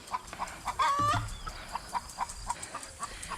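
Chickens cluck in a steady series of short notes, with a brief louder squawk early on, close by on a farm.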